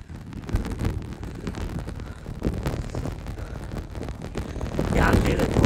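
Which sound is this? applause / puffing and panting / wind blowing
wind blowing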